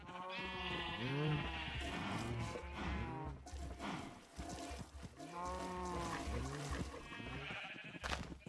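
Cattle in a video game moo repeatedly in low, drawn-out calls that overlap one another, loud and close, with rumbling background noise between the calls.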